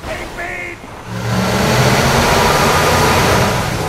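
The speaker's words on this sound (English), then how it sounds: "Why does every single car sound really, really loud?" Loud car engine in Borderlands 2 roars and revs up, holding a steady, heavy drone, with a voice talking briefly at the start.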